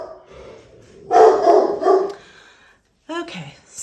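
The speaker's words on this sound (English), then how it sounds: "so sorry about the dogs barking" Dogs barking indoors at a house where one is being dog-sat, a couple of loud mid-distance barks followed by a pause and a higher yip, no talking.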